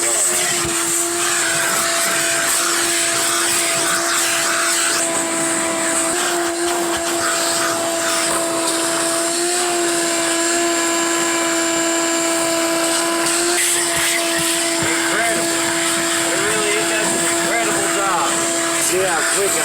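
A Ridgid 16 gallon 6.5 peak HP NXT wet/dry shop vacuum runs continuously nearby, a loud steady whine with airy rushing, its pitch shifting slightly as the hose works, with occasional speech.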